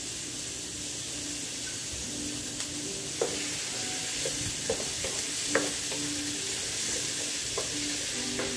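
Garlic frying in a pan for American-style spaghetti sauce, a soft continuous sizzle with a few light clicks and taps of stirring, fairly quiet and even throughout.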